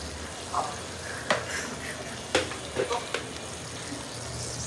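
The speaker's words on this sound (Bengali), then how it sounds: "এখন ভালো করে মশলাটা কষাবো" Spice masala is sautéed in a pan, giving a soft continuous sizzle broken by several sharp scrapes and taps of a utensil against the pan.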